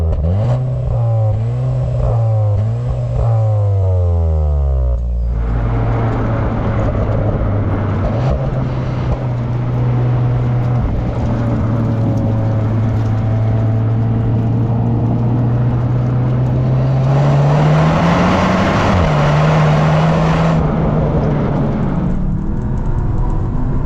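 The engine of a 2026 Cupra Leon VZx pulls hard on a test drive, revving up through the gears in rising sweeps, then holding a steady drone before surging again, loud and close from inside the cabin with no talk.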